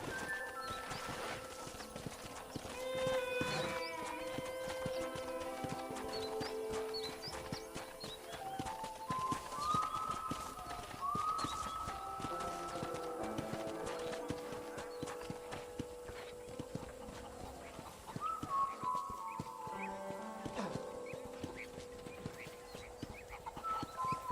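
Horse hooves clip-clop at a steady walking pace in Red Dead Redemption, quiet and close, with music and faint ambient sounds layered behind them.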